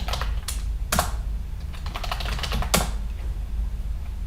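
Computer keyboard keys clack in a quick run of taps during a login, with a few louder strokes spread across a steady low background hum.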